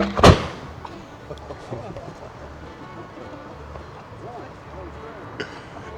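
A single loud cannon shot from an artillery demonstration at a Gettysburg campground bursts at the very start, then fades into crowd noise and scattered talking and movement, with a fainter thump near the end.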